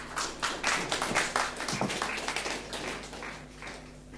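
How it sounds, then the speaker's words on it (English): A small group at a panel discussion claps for a few seconds, steady at first and then thinning out, moderately loud with no talking. "round of applause."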